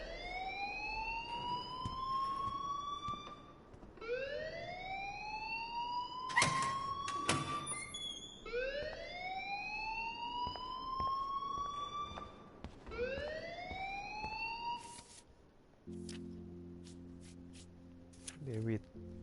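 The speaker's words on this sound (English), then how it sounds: "please turn off that alarm since that's your job" A fire alarm in the video game Life Is Strange wails in repeated rising sweeps, loud and continuous, broken by sharp clanks before it cuts off into low tonal game sounds.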